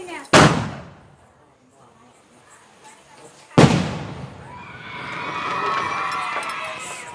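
Firecrackers going off during a family celebration, two sharp loud bangs a few seconds apart, the second followed by a lingering hiss and crackle while people's voices sound in the background.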